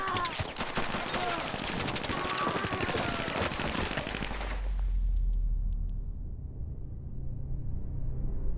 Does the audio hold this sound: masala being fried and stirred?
no